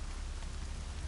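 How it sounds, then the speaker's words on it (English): Steady rain falls in Horizon Zero Dawn, a constant, even hiss of drops that sounds fairly close, with no voices over it. "And now it's raining, of course."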